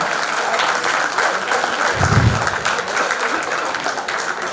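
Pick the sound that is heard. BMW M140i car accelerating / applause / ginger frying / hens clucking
applause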